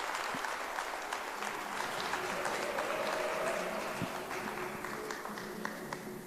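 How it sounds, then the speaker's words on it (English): Audience applause at a book launch in Soweto, a dense, sustained clapping crowd welcoming a speaker to the stage, loud and close, fading slightly toward the end. "could you please give a round of applause as we welcome Professor Richter to the stage"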